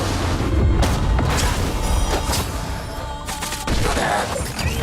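An explosion in Honkai: Star Rail erupts with a dense, loud boom followed by rapid crashing impacts and a second rumbling blast, all close and forceful.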